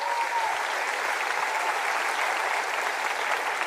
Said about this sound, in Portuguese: Dá uma salva de palmas pra galera da banda